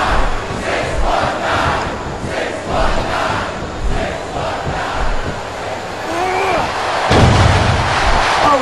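Wrestling video game crowd during a Smackdown match with Rey Mysterio, a loud and constant roar of cheering that rises and falls, with a sudden heavy surge near the end.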